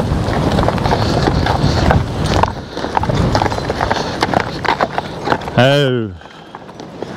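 A team of working horses being driven outdoors on a windy day, hooves clip-clopping steadily under gusty wind noise while a person talks and briefly exclaims.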